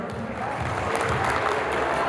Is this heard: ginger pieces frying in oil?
no